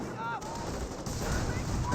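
Gunfire in a Company of Heroes battle between British and Wehrmacht forces, a dense stream of rapid shots and rattling fire, fairly loud and continuous, with a voice speaking over parts of it.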